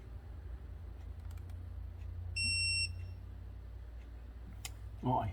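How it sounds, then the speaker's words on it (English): A brand-new Snap-on digital torque wrench beeps on reaching its 13 foot-pound target while an oil pressure sensor is bolted onto a 2013 Ram 3.6 engine; one bright half-second tone sounds over a steady hum in the shop. "I get a chance to use my brand new snap-on torque wrench."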